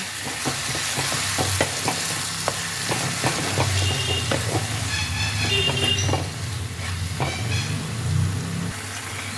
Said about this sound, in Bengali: বেগুনটাকে এবার মশলার সাথে ভালো করে মিশিয়ে নেব